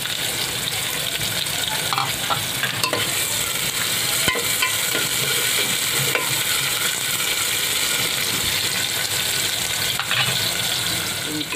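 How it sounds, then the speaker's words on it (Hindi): Sliced onions fry in oil for a mutton salan, a steady close sizzle with scraping stirs from a spoon against the pan and a few faint clinks throughout. "इसको भी अच्छे से फ्राई करके लेना है"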